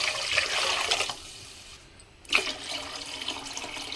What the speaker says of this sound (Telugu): ఇప్పుడైతే ఎసరు వేస్తున్నాము.